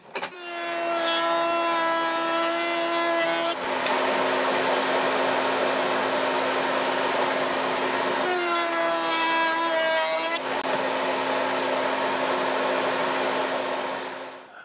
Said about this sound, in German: Das habe ich mir hier an der Oberfräse eingestellt. Und da machen wir mal rechts und links hiervon jeweils die Nut rein.